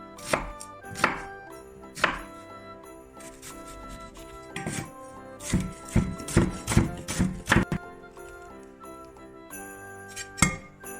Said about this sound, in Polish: Teraz kroimy cebulkę, też w drobną kosteczkę